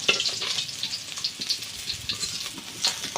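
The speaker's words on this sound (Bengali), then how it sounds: "এই যে মাছ এবার বাদ বাকি মাছগুলো এইভাবে ভেজে নেবো এক এক করে" Large pieces of pomfret fish frying in hot oil, a close, busy sizzle with bursts of spitting crackle that rise and fall for a few seconds.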